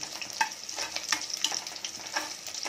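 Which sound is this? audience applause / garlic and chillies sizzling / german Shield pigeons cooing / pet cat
garlic and chillies sizzling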